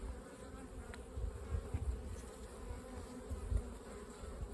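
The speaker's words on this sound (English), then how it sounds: "These are definitely forager bees right here." Honeybee foragers at a hive during a spring beekeeping check, growing a little agitated, fill the air with a dense, steady buzz and low drone that swells slightly now and then, with no voices over it.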